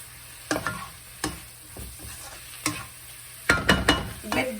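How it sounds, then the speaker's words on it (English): Paneer butter masala being stirred in a pan: a series of distinct scraping strokes at irregular intervals, clustering into quick bursts toward the end, over a low steady sizzle, close and moderately loud with no talking. "Give it a nice stir."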